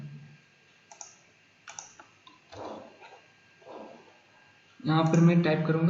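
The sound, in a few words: typing on a computer keyboard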